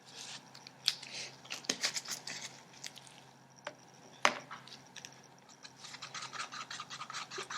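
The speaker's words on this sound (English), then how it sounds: "Make sure to mix the pigments and the resin very well" Pigment is stirred into resin in a small cup, giving close, quiet scraping and tapping strokes in an irregular rhythm. A few sharper knocks stand out, and no voices are heard.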